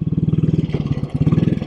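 1957 Royal Enfield Bullet 500 single-cylinder engine thumping steadily while riding, with rapid, even low pulses and a brief dip before the beat picks back up, loud and close with no talking.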